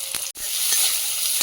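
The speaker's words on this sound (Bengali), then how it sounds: "এখন দেখি সামান্য তেল দিয়ে দেবো। দিয়ে দেবো গোটা জিরে।" Whole cumin seeds sizzle in hot oil with a steady, loud, close crackling hiss, briefly broken by a short drop before the frying sound resumes.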